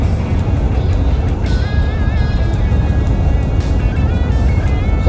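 A GMC Caballero revived after more than twenty years of sitting, driving at about 45 mph; loud continuous engine drone and road rumble heard from inside the cabin, steady throughout.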